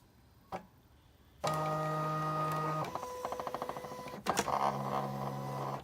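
Silhouette cutting machine cutting a portrait, with a click, then a steady motor whine, a run of rapid ticking steps and more whirring carriage movements.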